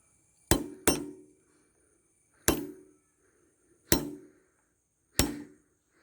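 Five sharp metallic hammer strikes on a stuck screw of a disc brake during servicing, the first two close together and the rest spaced about a second or more apart, each loud and ringing briefly with no talk.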